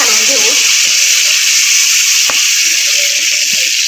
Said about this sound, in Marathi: आता याच्यामध्ये भरून घेतलेले वांगे घालायचे